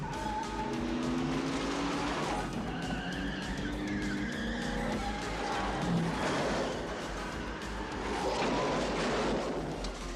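Car tires skid and squeal loudly as a car speeds off in a 1989 action-comedy film, several drawn-out screeches over a roaring engine, close and continuous.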